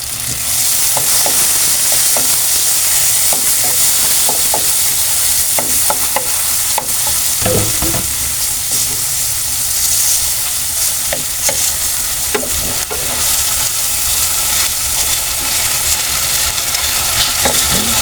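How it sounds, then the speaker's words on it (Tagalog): Tomatoes sizzling and being stirred in a hot pan while making sarciadong galunggong, a steady loud frying hiss with repeated scraping clicks of a utensil against the pan, close and without talk. "Siratin natin para kumatas po ating kamatis."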